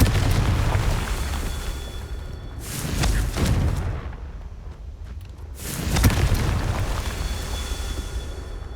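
A Confringo fire spell bursts in Hogwarts Legacy: two loud, booming explosions roughly three seconds apart, each swelling and fading over a continuous rumbling game background.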